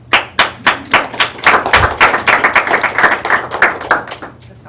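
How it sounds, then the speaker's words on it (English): Applause from a crowd at a Ward 4 community meeting: a burst of steady clapping from many hands that fills the room, rising and then thinning out over several seconds, with no talking over it. "That sounds like good applause"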